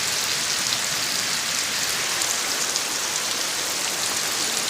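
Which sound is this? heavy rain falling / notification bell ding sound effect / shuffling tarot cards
heavy rain falling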